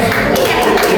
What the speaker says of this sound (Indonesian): Terima kasih untuk kelompok kita beri tepuk tangan